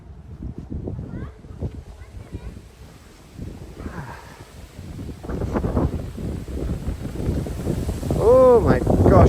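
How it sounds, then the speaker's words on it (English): Gusty wind buffets the microphone with low rumbling bursts in Fukui, Japan, growing stronger toward the end, while people talk intermittently underneath. "Oh my gosh, it's so windy."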